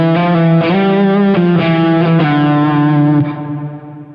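Distorted electric guitar lick from a song, run through effects, a few sustained sliding notes and hammer-ons ringing loud and close, alone, fading out at the end.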